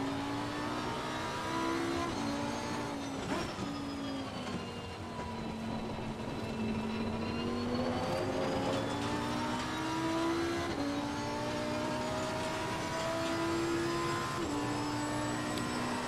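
A Lamborghini race car in Assetto Corsa Competizione laps a wet track at an easy pace, its engine note droning continuously and rising and falling through repeated gear shifts, with no talking.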